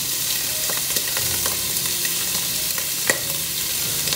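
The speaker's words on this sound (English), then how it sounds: "Just sitting here boiling slowly." Jambalaya-stuffed bell peppers with shrimp and sausage simmer slowly in a pot, giving a steady close bubbling and hissing wash with occasional small pops, alone and unbroken.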